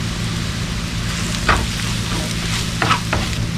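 Onions sauté with coriander powder for beef biryani in a clay pot, a loud, continuous frying sizzle close by, broken by a few sharp scrapes of a spoon stirring.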